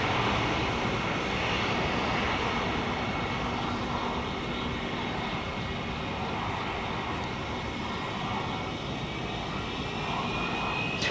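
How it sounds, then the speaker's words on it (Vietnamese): An ATR72 turboprop airliner accelerates for takeoff at Saigon airport, its engines a loud, continuous roaring drone with a steady high whine, sustained without a break and heard from nearby. "chưa đầy 30 giây là máy bay đã bắt đầu chuẩn bị tăng tốc, lấy độ cao và hướng về sân bay Côn Đảo luôn"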